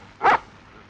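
A small dog gives one short, sharp bark, heard alone over a quiet background in a 1932 film of the operetta Gräfin Mariza.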